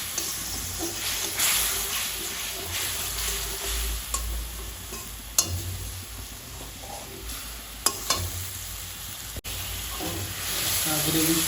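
A paste of turmeric, salt, chili and garam masala mixed with water sizzles and hisses in a pan over fried cumin, while stirring scrapes and clatters through the steady frying.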